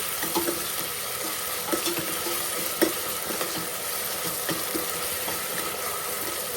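Green chilli garlic paste fries and is stirred into mango sambar, giving a continuous close sizzle with scattered scraping stirs.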